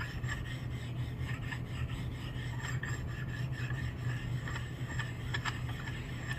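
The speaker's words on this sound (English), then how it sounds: "I'm using my precision ground flat stones. I'm just knocking the burrs off those machined surfaces." Precision ground flat stone rubbed over machined metal surfaces of a circa 1895 Crocker-Wheeler bipolar fan motor to knock off burrs, a faint steady scraping rasp with repeated strokes, no talk.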